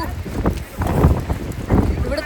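Strong gusty wind in the USA buffets the microphone in loud, low, rumbling bursts that rise and fall every second or so.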